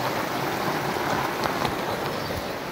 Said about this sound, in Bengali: সাউন্ডটা দেখো, বৃষ্টি হচ্ছে।